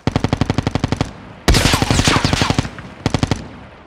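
Rapid automatic gunfire from Call of Duty gameplay, two sustained bursts of evenly spaced shots framing a dense, chaotic stretch of heavier firing and impacts, all loud and close with no talk.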